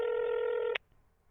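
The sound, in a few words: telephone dialing tones in a visual novel video game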